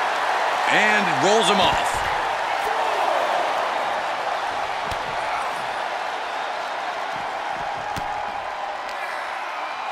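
Arena crowd noise from a WWE 2K23 wrestling match fills the background as a steady, loud roar of cheering, with a commentator talking over it throughout.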